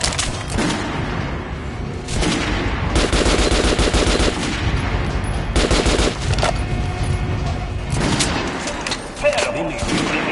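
Rapid gunfire at a training dummy on a shooting range in Metro Last Light Redux on PS4: loud bursts of automatic shots with heavy thumps, repeating in clusters across the clip, with voices talking underneath.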